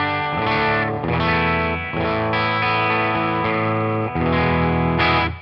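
Electric guitar on its neck pickup through a NUX Cerberus and Amp Academy with always-on ambient reverb: a handful of sustained, shimmering chords struck one after another, each ringing out fully and close.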